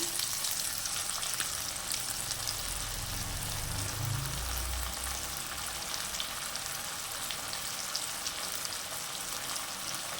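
Onion paste fries in a pan for mutton masala, giving a steady close hiss and sizzle with occasional stirring, alone and fairly soft.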